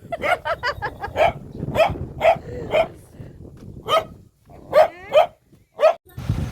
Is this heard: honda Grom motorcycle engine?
no